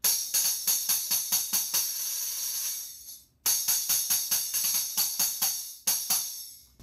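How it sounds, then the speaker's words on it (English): Hand-held tambourine struck with the other hand, a steady run of bright jingling hits with a brief shake between two groups, close and clear with no talk. "Now we'll try the tambourine here"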